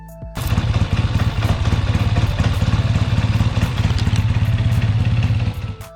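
A 1962 Triumph TR6 Trophy motorcycle engine running close and loud, a fast steady pulsing rumble that holds evenly for several seconds, no voices.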